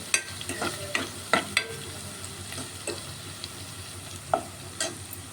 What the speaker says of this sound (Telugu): కొంచెం అల్లం వెల్లుల్లి పసుపు కొంచెం నూనెలో ఫ్రై అవ్వాలండి